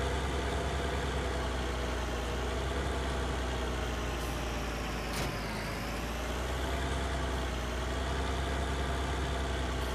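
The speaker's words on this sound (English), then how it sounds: "I'll grab the stump grinder too, and I'll grind through that stump that's there" A stump grinder in Farming Simulator 19 grinds through a stump with a steady, loud, droning engine tone that holds constant throughout, with no talking.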